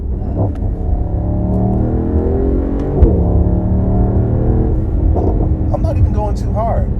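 A Mercedes-AMG GT 63 engine rumbles and revs steadily with a rising and falling tone, loud and close, with one sharp pop partway through.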